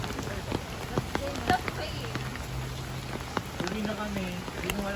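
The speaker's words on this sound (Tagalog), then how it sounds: "It's raining." Rain falls outdoors in Tagaytay, a steady pattering hiss with scattered close drips and splashes. People talk nearby over it.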